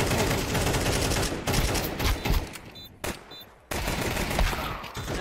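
A dense video-game shootout of overlapping rifle and machine-gun bursts, loud and nearly continuous, breaking off briefly for a moment before the firing resumes with equal intensity.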